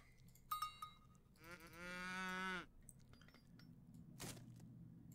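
A single long cow moo in Age of Empires III, fairly clear, with a few clinks and clatters before and after, no talking.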